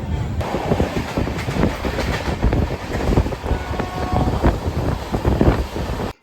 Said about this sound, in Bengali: আমাদের ট্রেন তার গতিবেগ একশোর ঘর পার করে ফেলল রাতের অন্ধকারে সে তার তীক্ষ্ণ গতিতে ছুটে চলল